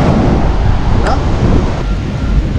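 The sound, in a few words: wind at a beach resort at night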